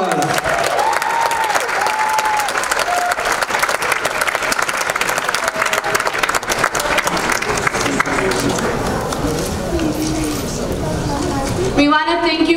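An audience at an international festival celebration gives sustained applause, dense clapping that fills the room from start to finish with a voice talking over it near the beginning.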